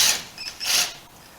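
A T27 Torx bolt is loosened from a clutch lever clamp, giving two short, close bursts of gritty mechanical creaking and ratcheting as the tool turns.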